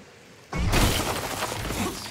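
Amber shatters in Star Wars Battlefront 2: after a short lull, a sudden loud burst of breaking and crumbling debris that rings on and slowly thins out.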